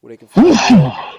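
A single sharp sneeze bursts out right after a man finishes a short spoken phrase, loud and close, with a breathy tail trailing off.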